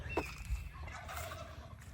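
A domestic turkey gobbles once in a short burst in a backyard poultry yard, fairly close, over a steady low rumble of background noise.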